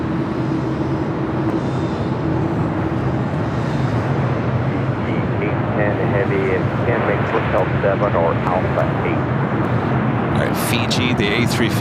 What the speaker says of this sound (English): Fiji, the A350 now just touching down at 25 left